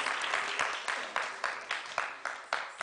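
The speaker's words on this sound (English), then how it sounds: "Give a clap offering to the Lord." Rhythmic church congregation clapping in a steady beat, many hands together at moderate loudness with no talking over it.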